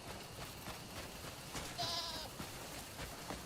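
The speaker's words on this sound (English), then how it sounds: "What's a mountain goat?" A mountain goat in the Crimson Desert video game gives a single short bleat partway through, heard over steady game ambience at moderate loudness.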